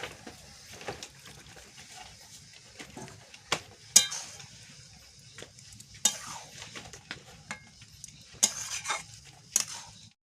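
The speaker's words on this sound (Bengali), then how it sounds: "এইবারে আমি এর মধ্যে দুধটাকে দিয়ে দেব।" Milk is poured into carrots fried in ghee and stirred in a pan for carrot halwa: a soft sizzle under repeated scraping and clinks of a spoon against the pan, close and fairly quiet.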